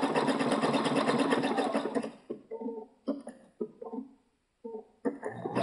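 A sewing machine stitches raw-edge appliqué with rayon thread, running steadily for about two seconds before stopping, followed by a few short, quieter mechanical bursts and clicks with gaps of near silence.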